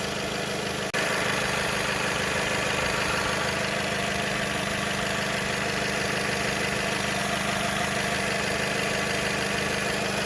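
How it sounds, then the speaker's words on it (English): A Ram pickup truck's Tigershark 2.4L engine idling steadily, a continuous even hum with a faint rhythmic knock from spark knock pinging, recorded up close with no talking. "Here's the engine just running."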